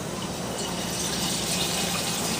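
An eye wash station sprays water under pressure, a dense, steady hissing gush that runs unbroken and fairly loud throughout, with no voices.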